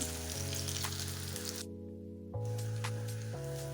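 A date (khajur) omelette fries on its second side over a medium flame, a continuous close hiss and sizzle that briefly drops out partway through before resuming, with no one talking.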